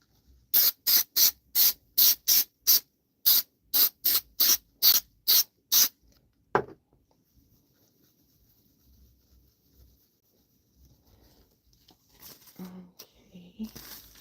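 A hand spray bottle misting a spring flower arrangement: about fourteen sharp, evenly spaced hissing spritzes in quick succession, close and clear, followed by quiet rustling of stems and wrap.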